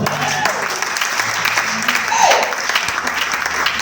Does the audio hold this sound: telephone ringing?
no